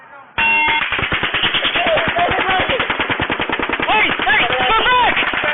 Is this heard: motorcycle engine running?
no